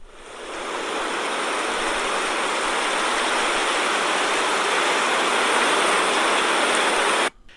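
Heavy rain from a rainstorm sound effect in a Superman audio drama hisses in a dense, loud, continuous wash that swells in over the first second and then cuts off abruptly near the end.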